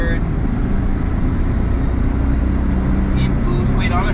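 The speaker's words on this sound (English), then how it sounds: "Alright, so now I'm going to get on the highway and we'll see how it does at high speeds." A Suzuki Jimny JA11 on the highway at speed, worn tires, with a steady loud engine and road rumble filling the cabin while someone talks over it.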